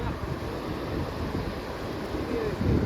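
Waves wash onto a beach at night in a steady, broad rush with wind buffeting the microphone; the surf swells slightly louder toward the end.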